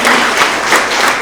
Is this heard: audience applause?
yes